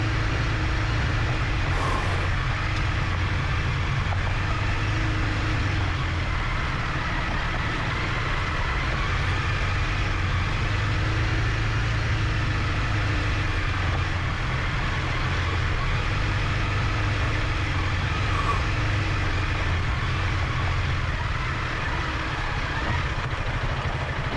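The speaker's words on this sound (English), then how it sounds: "Use the engine brake, Jimmy." Adventure motorcycle engine braking down a rocky trail, a steady loud low engine drone with deep rumble throughout, no talk heard.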